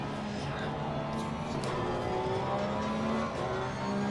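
A race car engine drones steadily in a chicane-approach battle behind a Ferrari as the driver lifts off the throttle, the engine note easing slightly while another car's tone shifts nearby, continuous and fairly loud.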